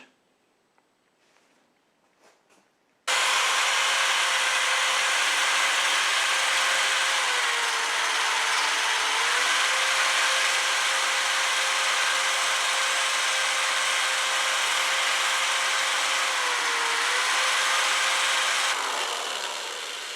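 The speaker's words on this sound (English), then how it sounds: "before I start on my good steel with a small grinder, I also bought that drill bit grinder" A small grinder runs steadily against a steel dagger blade, a loud continuous whine with harsh broadband grit, starting abruptly after a quiet moment and holding nearly constant.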